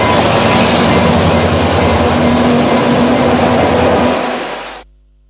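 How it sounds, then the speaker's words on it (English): A train travelling on railway tracks passes close by, a loud, steady rumble with rail noise that fills the clip before cutting off abruptly near the end. "today his journey was cut short by a moving train"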